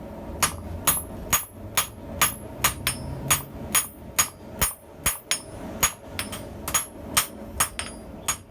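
Steady, ringing steel hammer blows drawing out hot steel on an anvil bick, about two per second, sharp and close, repeating evenly with no talking.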